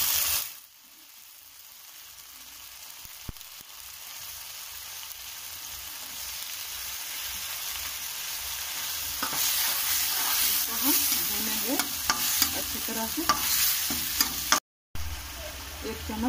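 Ground spice paste sizzles steadily in a pan for chaat masala, with scraping stirs that come more often and louder in the second half. A short gap interrupts it near the end.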